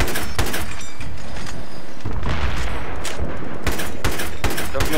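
Battlefield 3 multiplayer gunfire on a highway map, with loud rapid bursts of automatic fire and sharp cracks recurring throughout, some heavy booms, and players chattering over the shooting.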